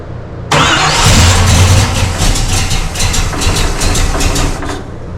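A car engine cranks on the key and catches, then settles into a loud, steady, rumbling idle heard close up in a garage.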